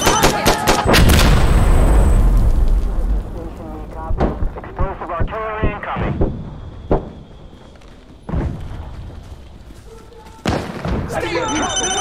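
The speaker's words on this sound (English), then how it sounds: "Explosive artillery incoming!" Explosive artillery strikes land in Insurgency: Sandstorm as a heavy opening blast, then scattered sharp gunshots and thuds and later booms, with voices speaking in between.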